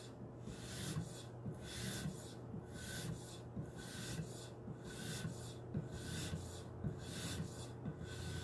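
A knife blade is drawn repeatedly across a coarse Edge Pro Matrix sharpening stone, producing a quiet, close, regular scraping stroke roughly once per second with a faint background hum.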